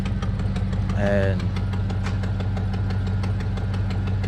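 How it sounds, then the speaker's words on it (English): A GMC Yukon SUV engine idles with a low, steady rumble throughout, and a brief voice breaks in near the start. "got the Yukon running right now"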